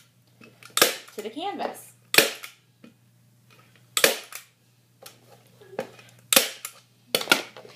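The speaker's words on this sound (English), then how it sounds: "I'm just going to go down the line, pulling the fabric as tight as I can get it, and staple it" A staple gun drives staples through fabric pulled tight over a wooden canvas frame for DIY wall art. About five sharp, loud snaps come at uneven intervals, and someone talks between them.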